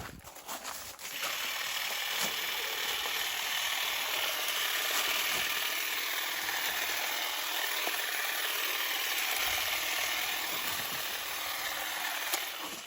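A TITAN TTT831HDC 18V cordless hedge trimmer multitool cuts through thuja hedge, its blades buzzing in a steady, close, continuous chatter that carries on without pause and without talking.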